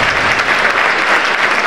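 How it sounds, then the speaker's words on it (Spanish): Audience applause at a Women's Day festival: dense, steady clapping from a large crowd, loud and sustained throughout with no voices on top. "un fuerte aplauso para ellos"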